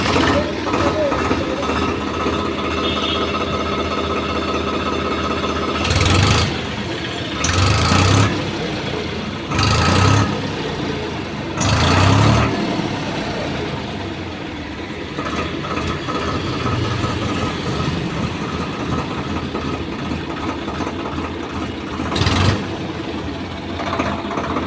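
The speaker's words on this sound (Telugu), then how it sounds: "ఇప్పుడు బండి అయితే స్టార్ట్ చేస్తాను. బీటింగ్ ఎలా ఉందో వినండి." A Swaraj 733 FE single-clutch tractor's engine starts and then idles with a steady, close rumble, with a few louder surges early on.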